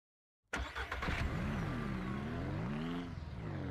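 Vehicle engine from the farming game Ranch Simulator, starting loudly after a half-second of silence and then running steadily with a rising and falling revving pitch, close and alone.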